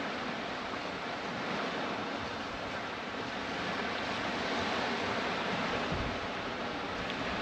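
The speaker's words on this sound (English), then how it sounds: "It's a bit breezy here today." Steady outdoor wind roars across the microphone without a break, loud and broadband, with a gusty surf-like wash and no voices.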